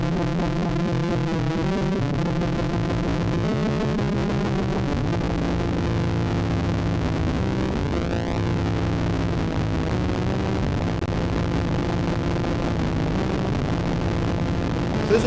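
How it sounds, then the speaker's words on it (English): Playtime Engineering Synthesthesia synthesizer with LFO modulation applied, a dense, loud, continuous wash of wobbling, beating tones and noisy texture, with shifting pitch sweeps running steadily throughout and no speech. "Let's go ahead and put some LFOs on this just to really crazy it up"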